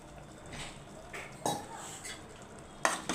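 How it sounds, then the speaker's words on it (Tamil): Chana masala with curry leaves sautés in a pan, a quiet sizzle broken by a few soft scrapes and knocks of a spoon stirring against the pan. "நல்லா வதக்கிக்கலாம் கருவேப்பிலை போட்டுக்கலாம்"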